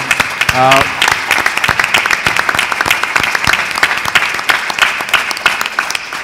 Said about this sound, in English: give a really, really round of applause for this wonderful panel